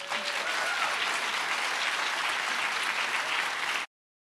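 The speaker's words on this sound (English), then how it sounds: "Round of applause going for Krista." An audience at a food and agriculture policy summit applauds a speaker, a steady dense wash of clapping that holds evenly for a few seconds and then cuts off abruptly.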